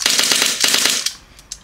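An airsoft gun's blowback unit cycling in short strokes, loud and close: two quick bursts of rapid mechanical clacks, then a few isolated sharp clicks after a short gap.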